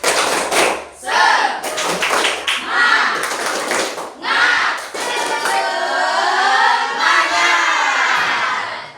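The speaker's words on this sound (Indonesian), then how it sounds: "Tepuk semangat." A classroom of standing students does a rhythmic tepuk semangat clapping chant during an ice-breaking break, sharp clustered claps mixed with voices calling out together, close and loud before settling into a teacher talking.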